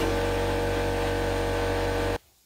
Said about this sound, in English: the compressor kicks in and makes a hell of a racket